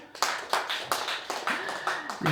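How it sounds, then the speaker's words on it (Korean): An audience at a Korean memorial healing concert claps in bursts of scattered hand claps, fairly close, as a voice speaks briefly over it. "우리 한번 박수 한번 크게 한번 쳐볼까요?"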